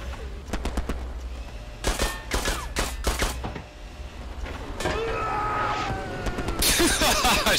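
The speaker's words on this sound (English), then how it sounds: "Some dude's shooting a pistol at us." Gunfire in the World War II shooter game Hell Let Loose: a series of sharp, close shots in quick bursts, with scattered bangs and engine rumble, under occasional talk.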